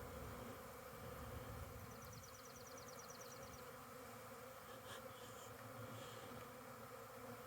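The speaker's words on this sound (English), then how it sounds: "And then give these guys a good shake down into the box. That is a big swarm." A big honey bee swarm being shaken into a box during a spring removal in Michigan makes a faint, dense, continuous buzzing hum, with a few brief clicks and taps over it.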